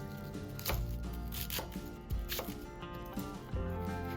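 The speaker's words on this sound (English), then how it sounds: "cut the cabbage into bite-sized pieces" A knife chops cabbage into bite-sized pieces, giving a few irregular, crisp cuts on a board over steady background music.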